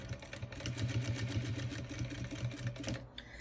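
Sewing machine stitching along the edge of a blanket, a fast steady mechanical chatter of the needle with a motor hum, running continuously before slowing near the end.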